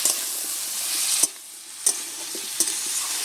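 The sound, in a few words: stirring and frying crab curry with pumpkin in a pan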